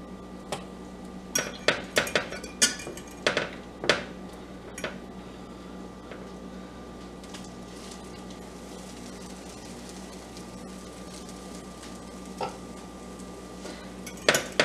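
Soaked bread sticks for French toast are set into a frying pan, giving sharp metallic clinks and taps of utensil on pan, clustered early and again near the end, over a steady quiet background hum.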